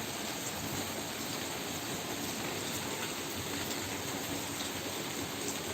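Steady rain falls over Buttar village, a dense, even hiss of drops pattering on surfaces without pause, fairly close and with no voices.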